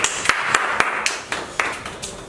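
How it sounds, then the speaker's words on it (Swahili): Applause at a community gathering: crisp, evenly spaced claps, about eight in a steady rhythm, close and fairly loud over quiet background noise. "Makofi kwake tafadhali."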